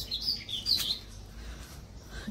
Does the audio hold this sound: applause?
no